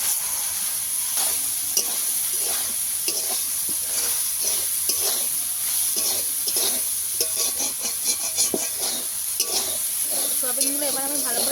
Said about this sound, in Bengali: তেলটাকে গরম করে নেব দিয়ে সয়াবিনগুলো এর মধ্যে দিয়ে দেবো